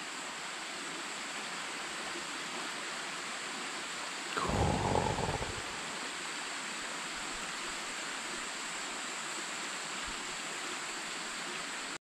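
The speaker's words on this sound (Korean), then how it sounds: "물도 많이 흐르네." A mountain valley stream flows steadily in a broad, even rush that fills the whole clip, with a brief louder knock partway through.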